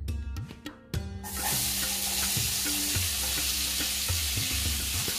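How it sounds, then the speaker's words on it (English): Onion frying in a pan already used for frying fish, a loud continuous sizzle starting abruptly after a few clinks and then steady throughout, with no talk. "Now in the same pan, I'll add here, I'll fry onion"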